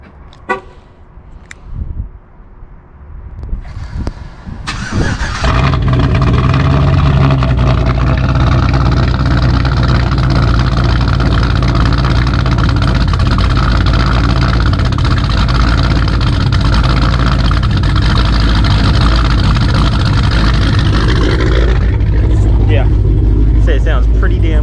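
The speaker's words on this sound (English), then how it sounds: "I figured I'd end out this video with a good old cold start for the boys." Cadillac CTS-V with an upgraded cam fires up from cold after some quiet fumbling, then settles into a loud, steady, lumpy idle that holds to the end, with occasional voices nearby.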